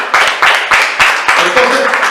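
A church congregation claps loudly in a steady, repeating rhythm, with voices mixed into the sound.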